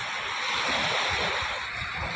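Sea waves wash steadily onto the shore, a loud, continuous broadband roar with gentle surges and some wind across the microphone, and no voices.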